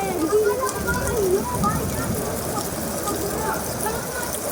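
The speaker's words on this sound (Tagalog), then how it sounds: "Hindi pa huminto yung ulan" Steady rain falls in a Philippine neighborhood during a power outage after a transformer blew, a continuous hiss with scattered drips, while voices talk faintly over it.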